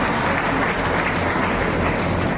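Audience applause at a polytechnic college event for a drug-free India campaign: loud, dense and continuous clapping from a large crowd, heavy and steady with a full, roaring texture throughout.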